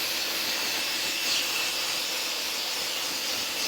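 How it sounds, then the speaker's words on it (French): Home paint spray gun for interior walls giving a loud, continuous, close airy hiss that holds steady and then cuts off abruptly at the end, no talking over it. "c'est un pistolet pour faire la peinture des cloisons à la maison, pour le bricoleur du dimanche"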